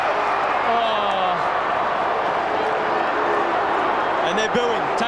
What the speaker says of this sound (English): And they're booing.